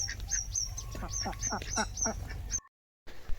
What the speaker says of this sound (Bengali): দেখতেই পাচ্ছ প্যাক প্যাক করছে হাঁসগুলো